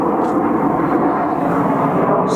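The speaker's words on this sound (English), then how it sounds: "Excuse the damn airplane." Airplane passing overhead near an airport while hidden in clouds, a steady broad roar of engine noise holding at constant loudness throughout, with no talk.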